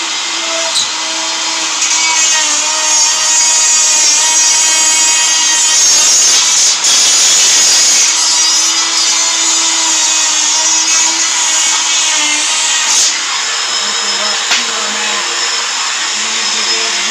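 A power tool cuts into a box without a guide bit, a loud continuous high-pitched whine and grinding that runs steadily with brief dips and shifts in pitch.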